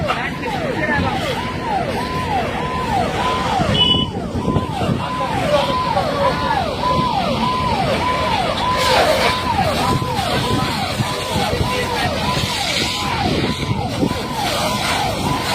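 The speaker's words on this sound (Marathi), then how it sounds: "केज नगरपंचायतच्या अग्निशमन दलाची गाडी या ठिकाणी पोहोचली आहे" A fire engine's wailing siren sweeps up and down in rapid, regular cycles, continuous throughout, over engine rumble and a murmur of voices and crowd noise at a burning bus on a roadside.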